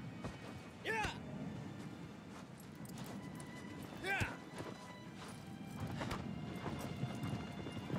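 Horse in the video game Shadow of the Colossus trotting with a quiet, steady clip-clop of hooves, broken twice by a loud whinny, while someone talks over the game sound.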